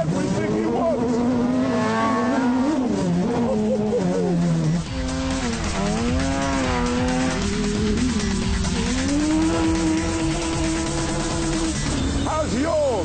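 A sports car with Brembo disc brakes and a limited-slip differential is driven hard, its loud close engine note climbing and falling through the gears with bursts of tire squeal and brief voices underneath.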